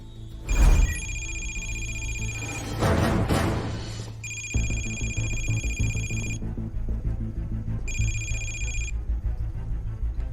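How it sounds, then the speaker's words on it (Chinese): A telephone rings in repeated bursts of bright electronic tones, separated by short pauses, over a low steady hum and some brief noisy rustles near the start. "没过多长时间，就在那天晚上， 我就接到了朱和平来的电话。"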